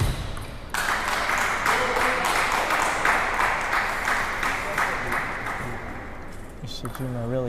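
A crowd at a junior table tennis match in Canada applauds and cheers in a sustained burst of loud clapping, with a commentator talking over it.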